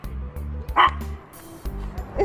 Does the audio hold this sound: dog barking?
yes